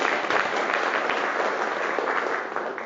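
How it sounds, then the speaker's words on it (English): Sustained applause from a conference audience at a Jeju forum panel on Northeast Asian geopolitics, a continuous even patter of many hands that tapers slightly toward the end. "Let's give a big applause to John Dillary."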